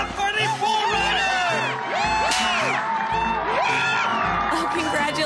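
A crowd at a bull riding event cheers loudly with whoops and shouts, lively and sustained throughout, with voices mixed into the roar.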